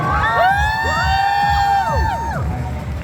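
Audience at a film box-office thank-you event cheering and shouting loudly, with overlapping whoops and raised voices sustained across the moment, close and dense.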